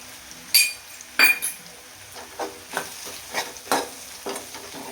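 Bottle gourd and crushed peanut powder are stirred in a pan, with a series of spaced spatula clinks and scrapes against the metal over a soft background sizzle.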